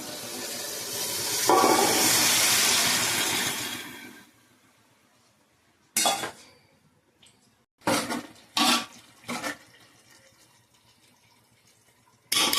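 Liquid pours steadily into a pot of sambar for about four seconds, a loud rushing splash. Several sharp metal clanks of utensils against the pot follow, close and separated by quiet gaps.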